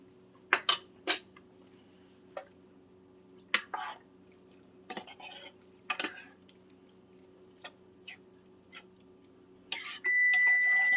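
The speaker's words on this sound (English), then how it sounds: "That's my oven going off for it to go into the oven." In a home kitchen, scattered clinks of dishes and utensils lead into an oven alarm that starts beeping with a steady, fairly loud tone near the end.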